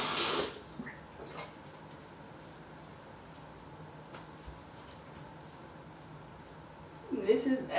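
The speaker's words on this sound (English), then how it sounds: "This is adding the extra water on the top." Water is poured over natural 4c hair, a soft trickle and splash close by against a quiet background, with a brief louder burst at the start and a splashier pour near the end.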